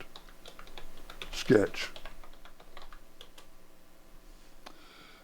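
Rapid clicking of computer keyboard typing while renaming a sketch in CAD software, light close keystrokes running through the clip beneath a brief spoken word.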